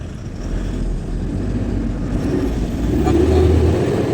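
A truck driving over a potholed road in Karnataka, cab shaking: loud continuous low engine rumble with rattling and bumps from inside the cab, swelling slightly toward the end.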